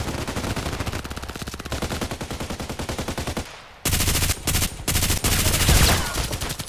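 Rapid automatic fire from an RPKT tactical machine gun in the shooter game Contract Wars, long loud bursts of closely spaced shots with a brief pause, then heavier, denser fire resuming.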